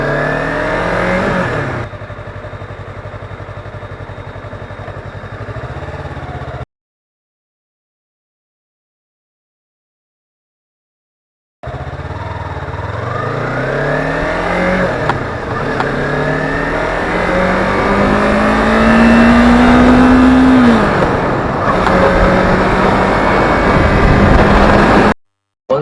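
A motorcycle engine revs repeatedly during half-clutch practice, rising and falling close by in two stretches separated by a few seconds of silence, with the later revs growing louder and climbing higher.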